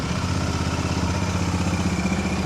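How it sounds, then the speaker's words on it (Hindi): A Royal Enfield Interceptor 650 motorcycle idles after a cold start, its engine giving a steady, close, loud rhythmic thump with a throbbing exhaust pulse throughout. "सो गाड़ी कोल्ड स्टार्ट हो रही है"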